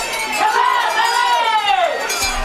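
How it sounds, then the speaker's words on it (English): A loud crowd roars steadily at a high school football playoff game, Corbin vs Shelby Valley. A swooping whistle-like tone rises and falls over the continuous crowd noise. "Loud crowd here, Mike."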